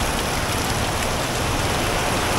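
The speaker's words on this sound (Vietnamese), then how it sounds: "Mưa quá trời mưa." Heavy downpour in Nha Trang, a dense, steady hiss of rain pounding surfaces, loud and continuous with no voices.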